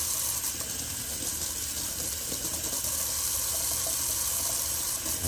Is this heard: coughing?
no